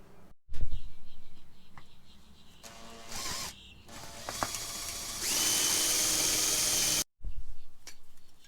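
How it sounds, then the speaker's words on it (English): A power drill whines in short bursts while drilling a pilot hole in a metal fuel filter bracket, then runs steadily at high pitch for a couple of seconds before stopping, close by with some handling noises. "I'm gonna make a pilot hole"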